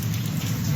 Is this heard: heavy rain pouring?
yes